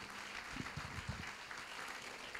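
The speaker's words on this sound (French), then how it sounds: "Une bonne main d'applaudissements à vous tous" Applause at a recognition gala rises as a soft, steady patter of clapping, fairly distant and faint, with a low voice briefly heard beneath it.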